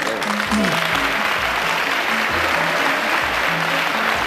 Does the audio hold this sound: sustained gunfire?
no